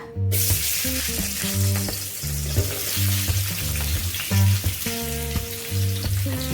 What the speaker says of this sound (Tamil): இப்போ வெங்காயத்தை போட்டு வதக்கிக்கலாம்